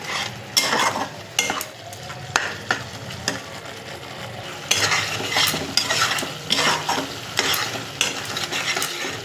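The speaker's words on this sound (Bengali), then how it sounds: "জল দিয়ে একটু মশলাটাকে আবার ভালো করে কষবো।" Spice masala with capsicum and a splash of water being stir-fried for an egg curry: loud, steady sizzling broken by repeated scraping and clattering stirs of a spatula in the pan, with no voices.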